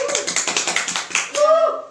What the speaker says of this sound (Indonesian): Tepuk tangan untuk kelompok Generasi Maju